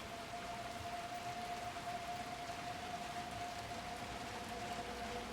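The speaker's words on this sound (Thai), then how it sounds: "ฝนตก" Rain falls steadily in the video game Little Nightmares 2, a constant even hiss with a thin sustained tone running beneath it, with no other sounds.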